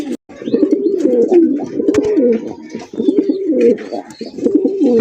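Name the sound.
pigeons cooing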